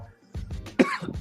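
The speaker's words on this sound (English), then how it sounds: "Let me finish coughing." A person coughs several times in quick bursts, close to the microphone, with throat clearing between the coughs in a quiet room.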